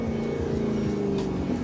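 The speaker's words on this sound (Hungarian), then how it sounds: "Nagyon szeretem a hangját. Jó német V8 hangja van." Steady engine drone from a BMW E39 535i with a German V8, a continuous loud rumble holding near-constant pitch throughout, heard close with no talk over it.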